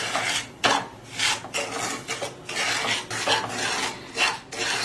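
Semolina halwa stirred and roasted in a pan, a spoon scraping and rasping against the metal in steady, repeated close strokes, with no voices.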